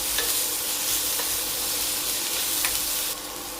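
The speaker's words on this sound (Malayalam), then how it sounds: "ഇതെല്ലാം കൂടെ കിടന്ന് നന്നായിട്ടൊന്ന് വഴന്ന് വരണം മുളകും മൂക്കണം തക്കാളിപ്പഴം ഒന്ന് വെന്ത് വരണം" Chillies, tomato, cabbage and carrot sautéing together in a pan for a vegetable chutney, giving a steady close sizzle and hiss with a few soft stirring scrapes, no voices.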